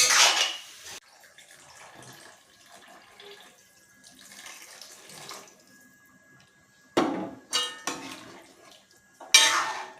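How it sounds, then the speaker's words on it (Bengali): Water splashes into a cooking pot of vegetarian mixed vegetables with beans, bori, potatoes and taro for Jagannath puja, in short loud bursts at the start and near the end, with clattering between quieter kitchen noise. "জল ঢেলে দিলাম, এবার ফুটবে।"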